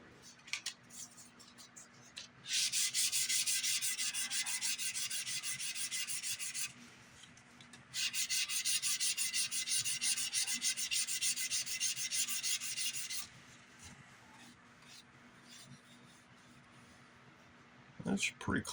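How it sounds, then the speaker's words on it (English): Sandpaper rubbing a wooden guitar part in two long, steady rasping bursts of brisk back-and-forth strokes, close and loud, separated by a brief pause, with a quiet room in between. "Maybe sand it just a little bit more."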